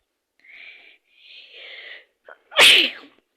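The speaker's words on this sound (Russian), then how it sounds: "Я просто чихнул." A man gives a single loud sneeze, preceded by two soft rising inhaled gasps and a short catch of breath, the burst sharp, close and abrupt before fading.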